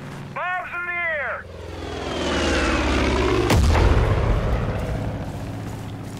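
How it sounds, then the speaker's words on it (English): Bombs and explosions in the Far Cry 5 video game: a long, loud rumbling blast swells and lingers, with a sharp boom midway, after a short voice-like tonal sound at the start. "Bombs in the air!"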